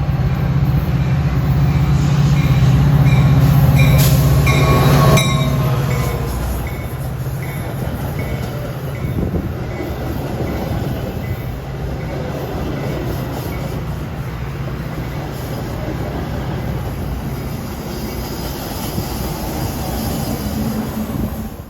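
Steady rumble and rattle of a moving Metra/Union Pacific West Line passenger train heard from inside, with a louder droning passage early on that settles into constant rolling noise.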